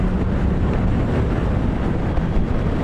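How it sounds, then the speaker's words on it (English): Strong wind buffeting a camera microphone outdoors while driving, a steady loud roar and rumble that never lets up, with no speech. "The wind made my camera blow over."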